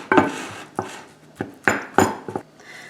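Meatloaf mixture for mini veggie meatloaves being mixed in a bowl, heard as a series of close, sharp clacks and scrapes of a utensil against the bowl in an irregular rhythm, with no talking.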